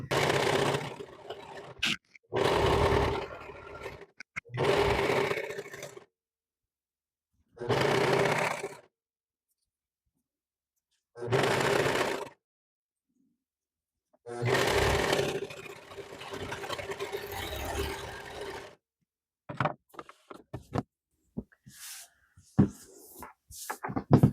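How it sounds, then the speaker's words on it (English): A serger stitching a narrow finished seam on fabric runs in several separate bursts of close mechanical whirring, with pauses between them and a few scattered clicks near the end. "with a serger, you can do a nice narrow seam and it just finishes it all off for you"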